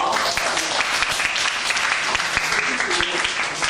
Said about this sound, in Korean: 제 친구 박수 한번 주세요